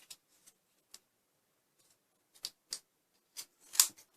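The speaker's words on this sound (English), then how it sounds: "I'm cutting a 1 inch piece, and I'm gonna fold it into 4 equal parts and cut it out" Scissors snip through paper while a one-inch strip folded into four is cut out, giving a quiet run of sharp, separate clicks that grows louder and quicker toward the end, with no voices.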